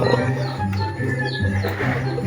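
Pigeons during a group training release give short chirps and coos scattered over a busy outdoor background, with fairly close, irregular calls and no speech.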